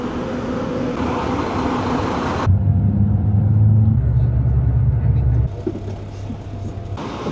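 Tour bus driving to a cruise terminal in Manta, Ecuador, a steady low engine rumble with gear changes and shifting road noise, fairly loud throughout.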